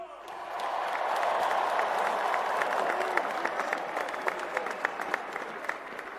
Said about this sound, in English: Let's give those seniors a round of applause.